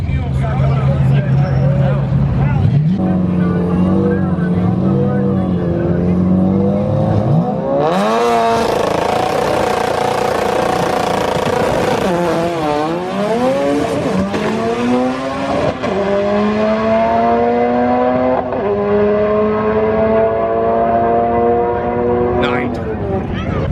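A car with full interior, roll cage and full exhaust makes a run at the Sick Summer drag event, its engine loud and close, revving and climbing through several long pulls with shifts between them, while people talk over it.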